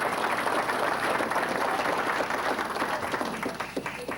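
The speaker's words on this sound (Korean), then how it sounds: "많은 박수 부탁드립니다" Dense, steady applause from the audience at a 20th anniversary ceremony of the Pohang YMCA fills the hall as a guest is introduced, loud and continuous before thinning slightly toward the end.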